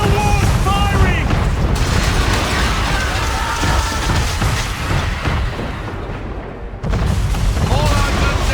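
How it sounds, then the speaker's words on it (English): Cannon fire from a man-of-war warship in Assassin's Creed III, a series of heavy booms and crashes layered under shouting voices and battle noise, loud and close, with a brief lull before another burst. "We're under attack! Man of war's firing!"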